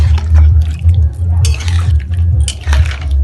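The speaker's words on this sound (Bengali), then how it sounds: "ঝোলের জন্য দিয়ে দিন জল" Water poured into a pan of cauliflower and potato curry, a close, loud liquid splash and gurgle with a few sharper splashes, over a steady low sizzle and hum.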